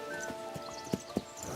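Horse hooves clip-clop in a video game, a few uneven hoof strikes with two louder thuds near the end, set against a steady game music or ambience bed.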